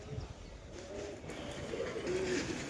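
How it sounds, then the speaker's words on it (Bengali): Domestic pigeons coo softly at a distance, with low, murmuring calls rising and falling over a faint background hum. "প্রথমে তোমাদের কবুতরগুলো একটা একটা করে দেখায় আগে।"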